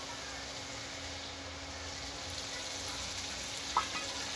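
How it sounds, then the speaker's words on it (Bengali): Eggplant curry sizzling in a pan as mustard water goes in, a steady close frying hiss with a brief clink near the end. "দেখুন সর্ষের জলটা আমি দিয়ে দিচ্ছি।"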